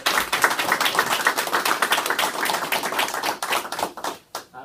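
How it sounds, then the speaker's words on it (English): Applause breaks out at a county board meeting right after a motion passes, a steady patter of many hands clapping nearby that fades out toward the end. "I think that deserves an applause."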